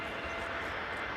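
EasyJet Airbus A320neo jet rolling out after landing on the Polderbaan at Amsterdam Schiphol, a steady broadband engine roar held at constant loudness, moderately distant, with no voices.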